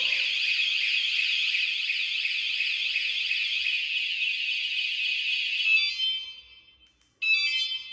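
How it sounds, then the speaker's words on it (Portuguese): An electronic alarm fitted to a bicycle wails with a loud, rising-and-falling siren tone for about six seconds, stops briefly, then sounds again in a short burst near the end. "Nossa, é muito top o alarme, ó."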